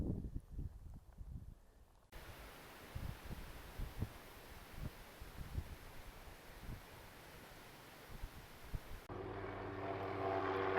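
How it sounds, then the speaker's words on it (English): A helicopter hovers during a rescue along the Appalachian Trail in Virginia. Its rotor gives a low, throbbing drone that pulses steadily at a distance, mixed with wind noise, and the sound shifts abruptly near the end. "A chopper is pulling somebody out."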